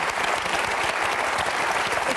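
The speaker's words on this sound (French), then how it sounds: "J'aimerais qu'on l'applaudisse" Audience applause for an artist present at an evening gathering, a loud, dense, continuous clapping from a crowd that holds steady for a couple of seconds.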